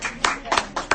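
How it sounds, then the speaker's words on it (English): Brief scattered hand claps from a small audience at a business talk, several separate sharp claps close together. "Give another applause to Dennis."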